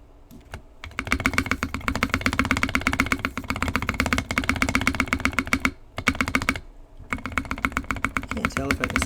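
Fast, loud typing on a KBD Fans D60 mechanical keyboard, heard close, with deeper spacebar clacks mixed into continuous streams of keystrokes and two short breaks in the flow.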